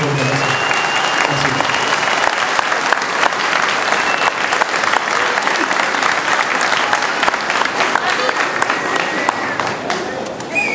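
Sustained, dense audience applause at a speech before a charity event in Algrange, loud and continuous for the whole stretch with crowd voices underneath.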